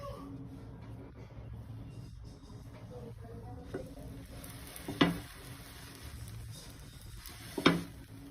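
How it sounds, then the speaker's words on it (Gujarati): A bread slice laid on an oiled nonstick griddle for a sandwich, giving a faint, steady sizzle with soft scraping and two sharper clinks near the end. "આપણે આમાં તેલ લગાવી દઈશું, હવે આપણે બ્રેડ મૂકી દઈશું।"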